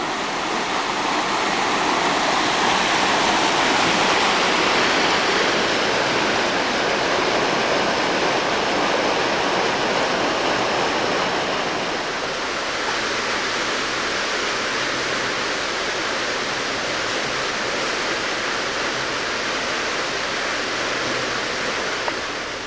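Loud, continuous rush of flowing water, like a brook pouring steadily nearby, with a slight change in tone partway through.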